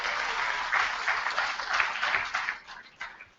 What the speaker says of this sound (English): Okay, so a round of applause to him for that.